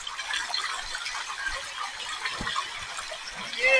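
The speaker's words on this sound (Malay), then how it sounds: "Air dia jernih, lepas tu dia laju." A clear, fast-flowing stream at a campsite in Tanjung Malim rushes steadily and close by, a constant bright wash of water with no break.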